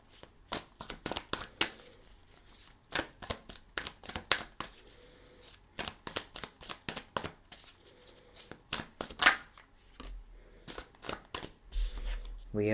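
A tarot deck is cut and shuffled by hand, a close series of quick, crisp card riffles and slaps in uneven bursts, with soft handling noises between them.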